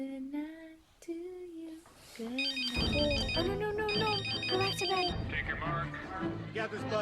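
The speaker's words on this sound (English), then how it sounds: "Oh, gosh. That is my phone." A melodic phone ringtone plays a repeating electronic tune, loud and close, with music and busy sound layered underneath after the first couple of seconds.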